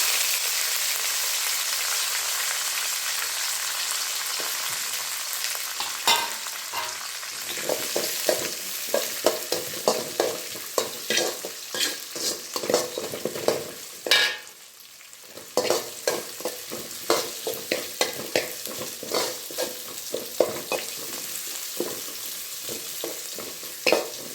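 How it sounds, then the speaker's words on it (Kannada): Curry leaves and chopped onion fry in a pan of hot oil with mustard seeds, a steady sizzle under repeated spatula scrapes and stirring clatter, dipping briefly midway before picking up again. "ಹಾಗೆ ಸ್ವಲ್ಪ ಕರ್ಬೇ ಸೊಪ್ಪು ಹಾಗೆ ಒಂದು ಈರುಳ್ಳಿನ ಕಟ್ ಮಾಡಿದ್ದೀನಿ ಅದನ್ನು ಹಾಕೊಳ್ತಾ ಇದ್ದೀನಿ"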